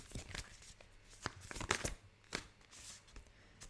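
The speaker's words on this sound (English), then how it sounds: "Let's pull you out an animal spirit card for you" Animal spirit oracle cards are shuffled and drawn, with soft irregular riffling, flicks and papery slaps recorded close and fairly quiet, with no talking.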